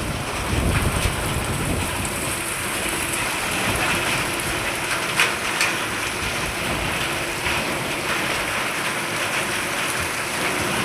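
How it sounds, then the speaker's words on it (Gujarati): Heavy rain pours down steadily, a dense loud hiss with scattered sharper drops and splashes throughout, no voices. "આ બાજુ પણ ખૂબ વરસાદ છે."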